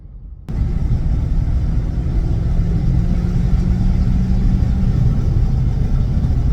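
A 2022 Ford F-250 pickup truck's engine starts a test drive with a sudden deep rumble that stays loud and steady, a low drone with no voices over it.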